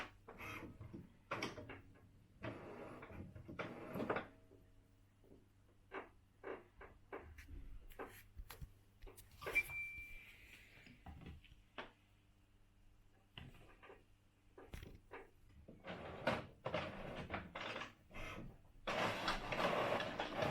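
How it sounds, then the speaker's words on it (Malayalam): An HP Envy Photo 6234 inkjet printer calibrating after its paper tray is pushed in gives intermittent mechanical whirs, clicks and clunks over about twenty seconds, with a busier stretch of motor noise near the end. "മെഷീൻ ഓട്ടോമാറ്റിക്കായിട്ട് അത് കാലിബ്രേറ്റ് ചെയ്യണം"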